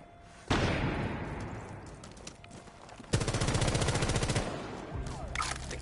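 A light machine gun firing in a video game, loud sustained bursts of rapid automatic fire that start abruptly, thin out, then return in a heavier stuttering stream before cutting off, followed by a lower rumble.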